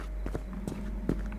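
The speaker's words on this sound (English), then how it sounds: "I can hear his footsteps." Heavy mechanical footsteps of an animatronic in the Uncle Chuck horror game, a few irregular thuds over a steady low hum, moderately close and fairly quiet.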